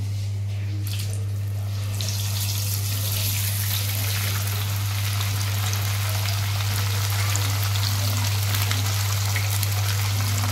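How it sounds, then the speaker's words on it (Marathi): Fish sizzles steadily in hot oil in a small kadhai, a continuous loud hissing crackle with no talk, alongside a low steady hum throughout. "आता मी मासा सोडले मध्ये बरं काय का तेल तापलंय"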